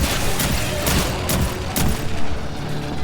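Loud, dense gunfire in the co-op shooter Aliens: Fireteam Elite, continuous rapid bursts with heavy booming impacts, close and without talk.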